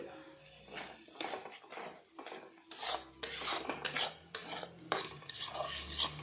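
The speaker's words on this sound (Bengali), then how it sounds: "এখন দেখো ডিমগুলো আর টমেটোগুলো আমি সব একসাথে সুন্দর করে মিক্স করে নিব।" Eggs and tomatoes being mixed together in a pan for a chutney, with a utensil clinking and scraping against the pan in irregular strokes, fairly close and moderately loud.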